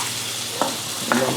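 Steak, tomato and onion fry together in a pan for a mixed grill, a continuous close sizzle with a couple of louder spitting bursts as food is stirred, and no speech.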